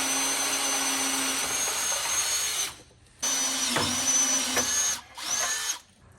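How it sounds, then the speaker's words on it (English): A power drill whines steadily through a hole in three bursts, stopping briefly between them, loud and close with no talking. "we're going to have to drill a hole"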